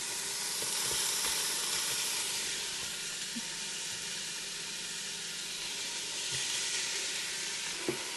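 Chunks of beef sizzle and hiss steadily in a Ninja Foodi pot being seared for stew, a broad close frying noise with a few faint clinks, no talking.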